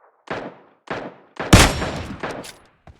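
Gunfire in a battle royale video game (PUBG-style squad match), heard as four loud, close bursts of shots spaced roughly evenly, the third the strongest and longest, followed by a faint final crack.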